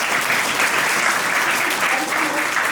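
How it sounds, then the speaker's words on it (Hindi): An audience applauds during an entrepreneurship session, a dense, steady wash of clapping from many hands lasting a few seconds before cutting off. "और तालियां बजा दें।"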